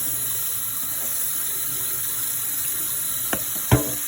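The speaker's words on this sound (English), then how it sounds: "Just going to rinse them with cold water." Cold tap water running over cooked macaroni in a strainer, a steady faint stream of water ending in two short clattering knocks near the end and no talking.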